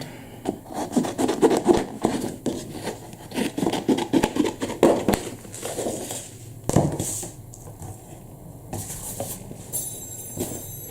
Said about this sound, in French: Je vais découper ces deux couleurs là.